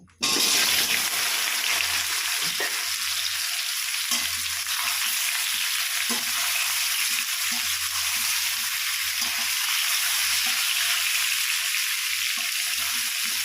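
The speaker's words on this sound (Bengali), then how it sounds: "আলুগুলো আমি 3 থেকে 4 মিনিট ভেজে নেব।" Small potatoes fry in white oil in a wok, giving a loud, constant sizzling hiss from start to finish with occasional stirring scrapes and bubbling pops.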